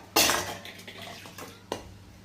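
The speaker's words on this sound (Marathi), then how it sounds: "हे मी कोमट करून ठेवलेलं आधीच पाणी, ते पाणी मी टाकले।" Lukewarm water is poured into a pan of fried masala for katachi amti, a spiced lentil broth, giving a sudden loud splashing hiss that fades over a second, followed by a shorter second splash.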